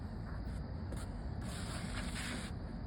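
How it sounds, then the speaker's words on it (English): A hard vinyl sponge float is rubbed over concrete block mortar joints, giving a soft, steady gritty scrubbing with slight strokes, close but faint and with no talk. "I take my hard vinyl sponge float."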